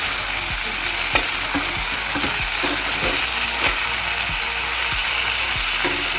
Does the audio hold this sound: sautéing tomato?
yes